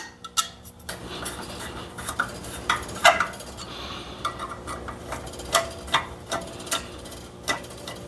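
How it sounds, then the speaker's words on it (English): Metal clicks and taps from a wrench fitted with a screwdriver bit turning screws on a muffler gasket of a Simplicity snowblower, a steady series of short, close, light knocks with brief pauses between them. "take a wrench and put on a screwdriver like this and turn it to tighten it up"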